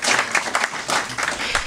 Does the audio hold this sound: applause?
yes